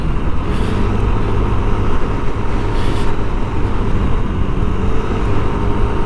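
A touring motorcycle accelerating along a rural road on the way from Makassar to the Leang-Leang archaeological park: a loud, continuous engine drone mixed with wind rush, constant and close throughout.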